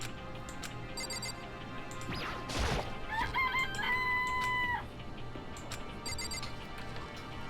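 A rooster crows once in the video game Danganronpa, a clear stepped cock-a-doodle-doo over a steady game hum. It comes after a sharp whooshing crash and is followed by faint chiming effects.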